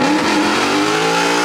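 A 2016 Mustang GT with a T56 Magnum XL swap doing a burnout, a loud, sustained engine roar with rising pitch and tire squeal, close by, cutting off abruptly at the end.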